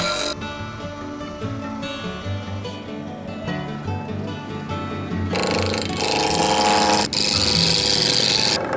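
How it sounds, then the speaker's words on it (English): A freshly sharpened roughing gouge cutting a spinning wood blank on a lathe to make a garden dibber, a loud continuous roar and rattle of the motor and cut that grows harsher and brighter after a few seconds. "I used a freshly sharpened roughing gouge to get the blank down to round."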